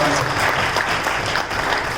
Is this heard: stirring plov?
no